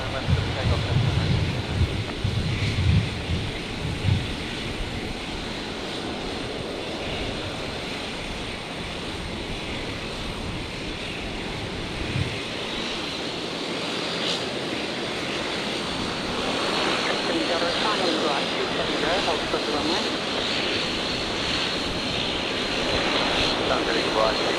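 Jetstar jet airliner taking off from runway 19 left at Brisbane Airport at night, a broad steady engine roar filling the scene with wind-like rush, swelling slightly toward the end, with radio talk heard over it.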